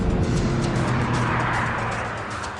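An Audi TT Mk2 3.2 accelerates hard off the line on a damp road while racing a BMW Z4 3.0, a loud continuous engine roar that fades slightly toward the end.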